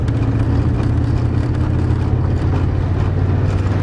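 A 1988 Chevrolet truck's engine rumbles steadily and loud from close by, a dense continuous low drone with no voices over it.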